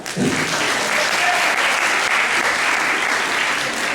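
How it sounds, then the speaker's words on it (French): Sustained applause from a group at a hypnosis session, a dense, even wash of clapping, close and fairly loud, holding steady for the whole stretch. "Applaudissez-la!"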